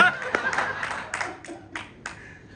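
An audience at a film trailer launch press meet claps in a short burst of several sharp, uneven claps that quickly thin out and die away within a few seconds.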